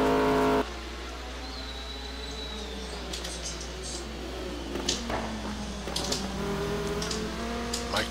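GT1 race cars such as the Viper GTS running warm-up laps at Road America in a racing video game, engines droning and rising faintly at a distance over a low constant hum, with a brief louder burst at the start.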